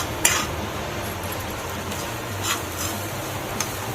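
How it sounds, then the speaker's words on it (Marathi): Semolina and coconut roast in a pan with a soft, steady dry sizzle as a spoon stirs them, adding a few light scrapes and clinks against the metal, close and with no speech. "खोबरं पण भाजायचं चांगलं, म्हणजे टेस्ट लागते चांगली। चांगलं भाजून घ्यायचं।"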